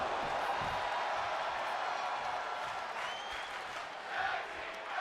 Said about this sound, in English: The crowd's getting into this one.